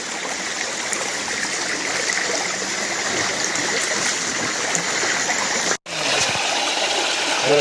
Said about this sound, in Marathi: अगदी सह्याद्रीच्या डोंगर रांगेमधनं हे सर्व पाणी येत आहे.